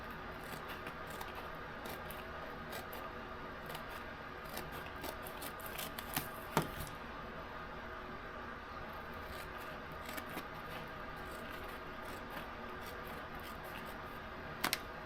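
Steady close cutting through craft material for an octagonal insert in a Scottish castle box, a continuous rasping snip texture with a few sharper clicks and snaps, no talking.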